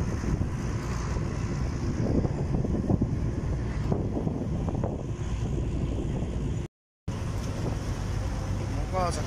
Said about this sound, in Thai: เป็นแพข้ามฟากนะครับจากสำโรงไปยังพระประแดงนะครับ